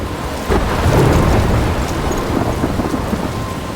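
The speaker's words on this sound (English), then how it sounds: "I'm trapped in a storm?" A thunderstorm in the video game Life is Strange: heavy rain pouring over a deep rolling rumble of thunder, loud and continuous throughout.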